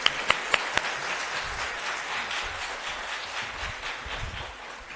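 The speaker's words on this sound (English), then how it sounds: "One more round of claps," Audience applause at the valedictory ceremony of an international youth biodiversity conference, a steady wash of many hands clapping that fades slowly over a few seconds, with a few sharp claps standing out at the start.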